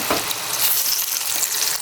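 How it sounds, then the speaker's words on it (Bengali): French fries frying in oil over a medium flame in a home kitchen make a loud, dense, continuous sizzle, close and steady throughout, with no talking. "এই যে সেম তেলের মধ্যে এখন আমি এই ফ্রেঞ্চ ফ্রাইগুলো ভাজা শুরু করব"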